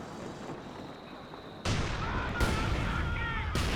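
Heavy booms from a WWII real-time strategy battle in a wooded area, with mortar fire among them. A muffled low rumble gives way to several loud, sharp blasts that keep ringing.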